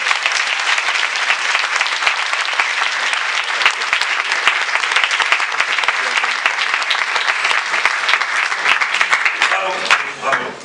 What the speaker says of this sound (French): Pour le court-métrage, on peut applaudir.